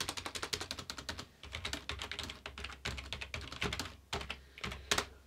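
Fingers type quickly on a standard home or office computer keyboard, producing dense, irregular runs of crisp key clicks with short pauses between bursts, close and clear.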